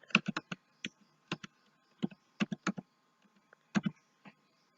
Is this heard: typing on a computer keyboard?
yes